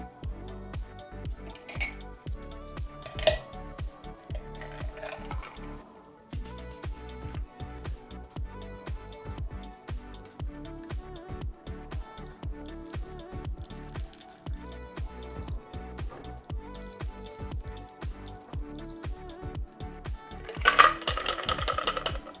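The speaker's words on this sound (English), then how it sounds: "And we're going to fine strain our cocktail into our chilled glass." A blackberry vodka cocktail fine strained into a chilled glass gives a long steady run of close dripping and trickling with small metallic clinks, ending in a brief brighter splash near the end, no voices.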